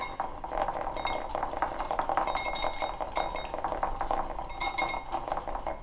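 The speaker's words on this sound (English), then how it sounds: "I'm just going to slowly whisk it in and make sure I get all the chunks in the jam worked out" A whisk stirring jam into salad dressing in a bowl, giving quick continuous metallic clinks and scraping against the bowl in an even rhythm.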